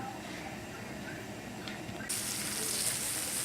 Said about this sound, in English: Now that we're starting to cook the shallots and the garlic in the butter